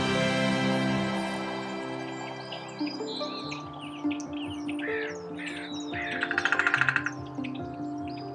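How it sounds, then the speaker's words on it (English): Songbirds sing along a refuge walk at the Nisqually Delta, with varied chirps and whistled phrases close by, a harsh cawing call, and a brief rapid rattling burst near the end, with no talk. "This part of the walk is full of songbirds."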